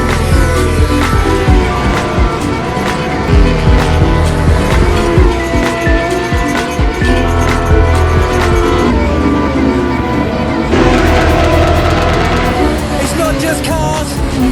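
Cars race past on the Brands Hatch GP circuit in woodland, engines roaring loudly and continuously as they sweep by close at speed, with revving surges, and a voice heard faintly under the noise.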